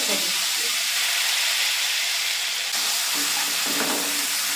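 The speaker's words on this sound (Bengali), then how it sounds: "পেঁয়াজটা এবার ভালো করে ভাজবো" Steady loud sizzling of onion paste frying in a pan, a continuous hiss with occasional stirring scrapes.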